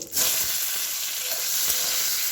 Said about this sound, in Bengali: জিরে আর শুকনো লঙ্কা ফোড়ন দিয়েছি, দিয়ে টমেটো কুচি দিয়ে দেবো আমি।